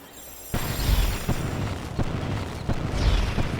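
Spells whiff and misfire in the Harry Potter and the Order of the Phoenix video game, a sudden booming burst followed by a run of dull thuds and pops, loud and close with no talk.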